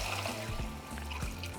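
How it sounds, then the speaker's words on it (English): Water is poured into a saucepan over tomatoes, serrano and de arbol chile peppers, a short continuous gurgling splash with a faintly rising filling tone. "we're going to cover them with water"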